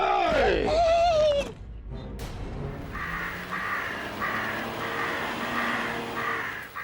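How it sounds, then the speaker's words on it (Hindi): A flock of crows in a village caws harshly, with loud close calls at first and then repeated rhythmic caws continuing through the background. "हे, इतना सारा कौवा।"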